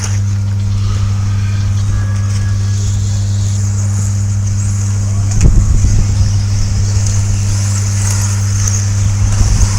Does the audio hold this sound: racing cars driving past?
yes